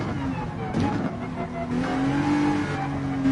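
Race car engine on light throttle in Gran Turismo 7, a steady revving drone with rising pitch as the car pulls away, close and constant for the whole stretch.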